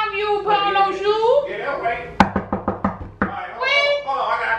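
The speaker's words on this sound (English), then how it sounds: "somebody knocking at our door" Front-door knocking: a quick run of about six sharp raps, then one more knock, clear and close between stretches of a child's and adult's speech.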